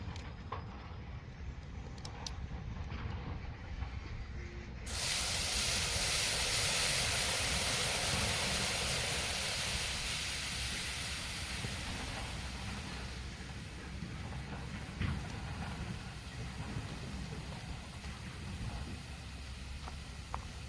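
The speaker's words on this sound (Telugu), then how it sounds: "మరుగుతున్నాయి కూల్ డ్రింక్." Cola soft drink boiling in a home experiment gives a steady broad hiss and bubbling roar, loud and close. It swells sharply a few seconds in, then slowly eases while staying continuous, with no talking.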